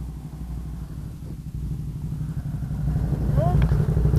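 A Kawasaki ZRX1100 motorcycle's engine rumbles steadily, then swells louder toward the end as the bike pulls away, with voices talking over it.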